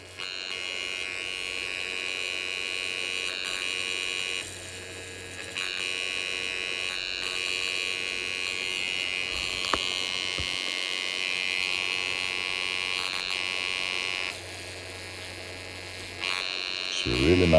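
Electric arcs from a cheap miniature high voltage power module, a steady harsh buzzing hiss that runs throughout with slight shifts in loudness and a brief crackle near the middle, close and fairly quiet.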